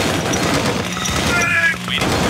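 Short burst of gunfire in a real-time strategy game, rapid shots clustered together amid battle noise, loud and brief, with game unit voice lines around it.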